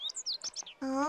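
A bunting chirps in a cartoon bird-watching scene, a quick run of bright high tweets lasting about half a second, followed by a child's short spoken exclamation.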